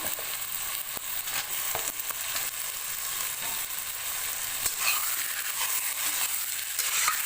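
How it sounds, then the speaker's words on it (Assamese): Pigeon meat fries in oil in a pan, giving a loud, steady, dense sizzle that runs without a break throughout, with a few sharper crackles and no voices. "আৰু এতিয়া এইখিনি মই ভালদৰে ভাজি থাকিম"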